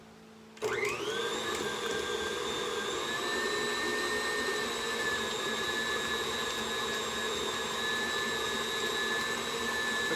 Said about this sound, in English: We're beating the butter to get it creamy.